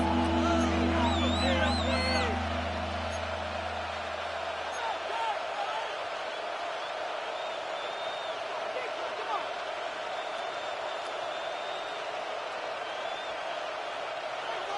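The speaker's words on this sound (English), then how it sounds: "This crowd into it now as we get to 3rd down." Football stadium crowd roaring loudly at the start, then settling into a sustained broad murmur and cheer as the game reaches third down near the goal line, with a commentator talking over it.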